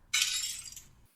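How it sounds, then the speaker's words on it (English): Window glass shatters after a thrown rock hits it, one sharp bright crash followed by a brief tinkling decay of falling shards, close and alone. "I find a few rocks and toss it out the window and it shatters"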